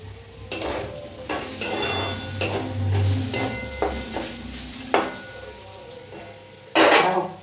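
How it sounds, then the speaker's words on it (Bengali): Potatoes frying in a pan sizzle under repeated stirring, with metal utensils scraping and clattering against the pan in bursts, close and fairly loud. "আলু ভাজাও প্রায় হয়ে এলো"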